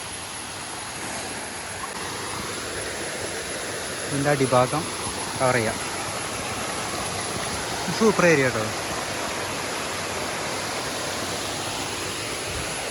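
The Olichi waterfall near Erumapetty, Thrissur, makes a steady rushing flow of water that continues throughout, with people talking over it.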